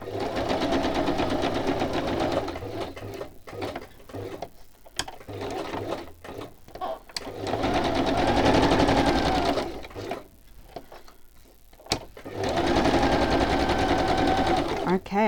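A sewing machine stitches fabric in loud whirring bursts of rapid mechanical rattling, running in three long passes with pauses between, while someone talks quietly over the gaps.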